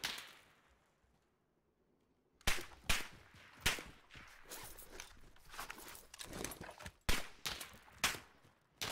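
Bursts of Warzone video game gunfire: a faint lull, then sharp loud cracks from about 2.5 seconds on, irregular shots and short volleys spread across the rest of the clip with dense clattering between them.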